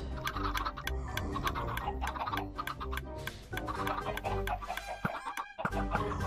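Chickens cluck in the video game Minecraft, with repeated short clucks under a busy, steady background of game sound and music.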